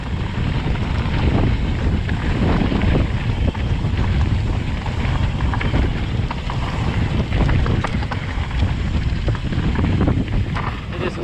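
Steady, heavy wind rushing across the microphone while a Spot Ryve 115 mountain bike is ridden fast on a dusty trail, a loud continuous roar with rattling trail noise beneath and no clear speech.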